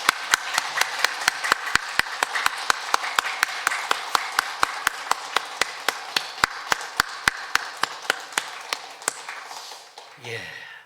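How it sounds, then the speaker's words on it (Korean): A church congregation claps in a steady, regular rhythm during a Sunday service, the sharp claps evenly spaced and fading out near the end, followed by a brief voice. "주님 앞에 우리도 힘찬 박수로 영광 돌리겠습니다"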